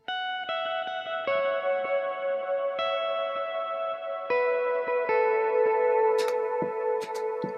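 Electric guitar lick of ringing, sustained notes picked one after another, each left to bloom and decay under extra reverb with a smooth, spacious tail, loud and alone.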